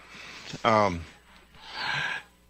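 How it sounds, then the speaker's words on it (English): A person breathing close into a microphone during a radio call-in show: a sharp gasping inhale, then a quieter pause and a softer, longer exhale, near and fairly loud. "We heard you breathing into the microphone there a moment ago"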